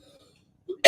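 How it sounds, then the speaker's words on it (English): A single short, harsh cough bursts out loudly at the very end after near silence, preceded by a faint throaty catch. "Excuse my bad cough."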